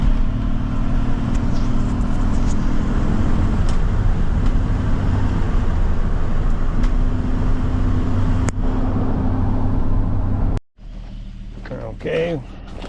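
Pickup truck engine running steadily while driving, a loud continuous rumble with road noise that cuts off abruptly near the end, leaving quiet with brief faint sounds.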